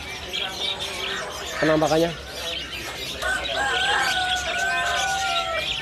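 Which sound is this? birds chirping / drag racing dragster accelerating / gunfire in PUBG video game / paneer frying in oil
birds chirping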